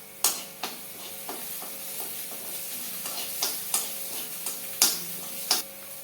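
Onions with ginger and garlic frying in a pan for masala fried rice, a steady soft sizzle broken by sharp clicking stirs of a spoon against the pan at irregular intervals, close and moderately quiet with no talk.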